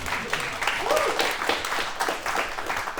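An audience breaks into applause, a dense, steady wash of many hands clapping with a voice or two mixed in.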